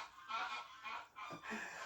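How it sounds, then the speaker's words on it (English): Several loud goose honks from geese flying overhead, in quick succession, harsh and nasal, repeating in uneven bursts over a couple of seconds. "geese flying over."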